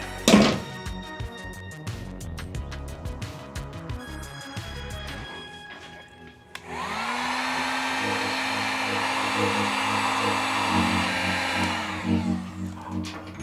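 A heat gun blows a loud, steady whooshing roar for several seconds while shrinking heat shrink tubing over trailer wiring, preceded by clunks and handling noises.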